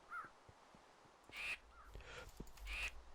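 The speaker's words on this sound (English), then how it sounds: "There's a raven here." Two loud, rasping raven caws in Minecraft's GTNH modpack, each a harsh burst about a second apart, standing out clearly above a quiet background with no talking.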